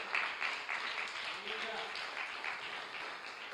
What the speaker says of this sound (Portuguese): Dê um aplauso a Ele, glorifique o nome dEle, irmão.